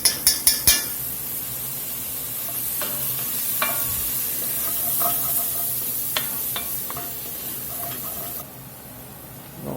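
Garlic and toasted seasoning sizzle steadily in a soup pot for chicken tortilla soup, with a spoon clinking and scraping against the pot as it stirs.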